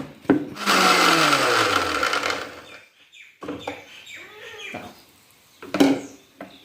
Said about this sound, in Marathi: आता हे मी आधी मिक्सरमधून वाटून घेतलेले आता पुन्हा एकदा गरका देते याला